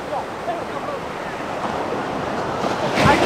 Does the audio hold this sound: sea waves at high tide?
yes